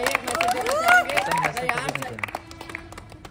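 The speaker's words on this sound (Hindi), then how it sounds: "जोरदार इनके लिए ताली" Audience clapping for a young achiever being honoured at a SmartValue achievement event, a dense burst of applause mixed with crowd chatter and cheering voices that thins out toward the end.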